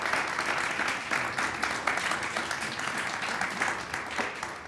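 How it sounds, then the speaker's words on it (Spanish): Audience applause for invited guests at a literary lecture on Roberto Bolaño, a dense, steady wash of many hands clapping that fills the room throughout, loud and close with no voices over it. "Les pido un aplauso, por favor,"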